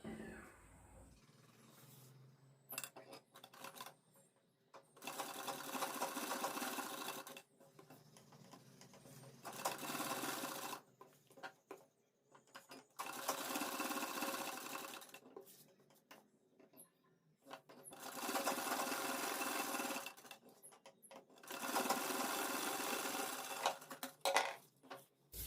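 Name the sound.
sewing machine stitching edge of kurti neck pattern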